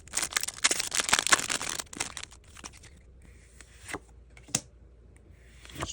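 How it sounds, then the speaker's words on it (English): Japanese Cyber Judge Pokémon card booster packs get ripped open: a burst of close, crinkly foil tearing, then scattered rustles and single crisp crackles as the wrapper is handled. "We're going to rip, see what we can get."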